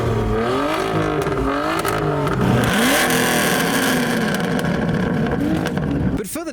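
Modified cars at a UK car meet rev their engines loudly and overlapping, with rising and falling revs from several vehicles and a sharp blip near the end over a noisy crowd background.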